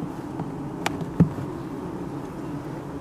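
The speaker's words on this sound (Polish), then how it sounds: "O, jest jedna pszczoła" Honey bee buzzing around an open hive, a faint low hum over quiet background with a couple of brief sharp knocks, no talk.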